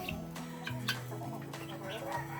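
Several chickens clucking and murmuring inside a coop with other birds, a steady close chorus of overlapping clucks and short calls, with no talking.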